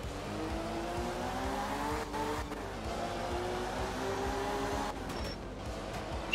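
A rally car's engine drones loud and steady in the video game art of rally, its pitch shifting through gear changes, with tire scrabble and brief skidding bursts and no talk.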